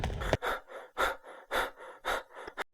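A cartoon character pants hard after fleeing a huge, fearsome bird, giving a run of loud, close, rhythmic gasping breaths with short pauses between them, heard alone with no talk.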